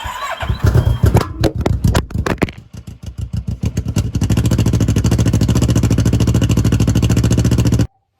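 A small engine cranks in sputtering bursts, catches and runs steadily for about four seconds, then cuts out abruptly into silence.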